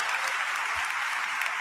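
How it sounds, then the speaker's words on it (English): Audience at a public gathering for victims' families giving sustained applause in solidarity, an even, continuous roar of clapping from many hands across the whole moment. "give a sustained applause in solidarity with these families"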